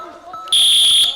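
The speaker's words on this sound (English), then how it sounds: "When you hear that whistle, that means the 20 seconds has expired on the ground" A sustained electronic buzzer-like tone of about half a second sounds loud and close at a youth MMA championship, signalling that 20 seconds on the ground have run out. Faint background voices come just before it.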